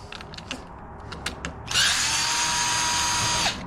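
A power drill zips out T25 screws from the handlebars of a 2023 Harley-Davidson Street Glide, one steady loud whir lasting about two seconds after a few faint clicks and taps.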